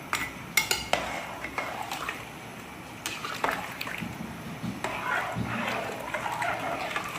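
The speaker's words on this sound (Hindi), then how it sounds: "चलिए ये हमारे चावल चले गए इसके अंदर, और अब हम इसको मिक्स करेंगे अच्छे तरीके से।" A metal spoon scrapes and clanks against a pot while rice is stirred into mushroom pulao, with sharp knocks early on, then a steady gritty scraping and soft shuffling of grains.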